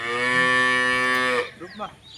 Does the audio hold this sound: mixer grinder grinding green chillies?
no